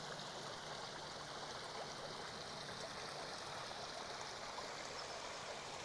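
A small waterfall spilling into a garden pond stocked with rudd, a constant, even rush of falling water that stays moderately close and undisturbed throughout.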